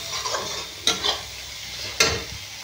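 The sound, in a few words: stirring and frying spice masala in pan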